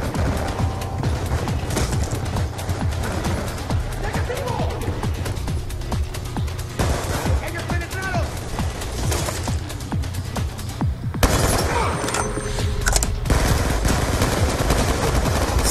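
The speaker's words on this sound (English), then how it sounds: "What are they shooting at?" Rapid automatic gunfire from a Black Ops 2 campaign firefight rattles continuously and loudly, with dense bursts and crashing impacts layered throughout, plus a sharp shift in intensity near the end.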